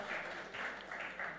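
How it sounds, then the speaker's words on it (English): An audience at a women's awards ceremony gives a short burst of dense, even applause from a large crowd. "Can we have a huge round of applause?"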